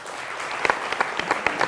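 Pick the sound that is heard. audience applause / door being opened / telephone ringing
audience applause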